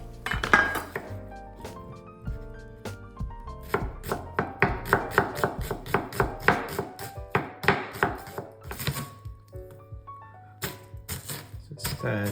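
An onion being chopped into small pieces with a knife on a board, a quick run of close, sharp, irregular knocks interleaved with clinks of dishes, with a voice speaking over part of it.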